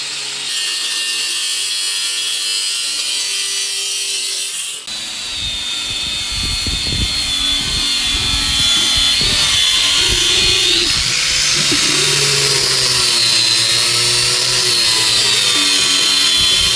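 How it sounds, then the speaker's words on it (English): A Sawzall reciprocating saw cuts through a Ford S197 Mustang intrusion bar, starting abruptly after a brief lead-in and then running loud and continuous with a harsh, wavering whine that shifts pitch as the blade works. "Think we can use Sawzall for this?"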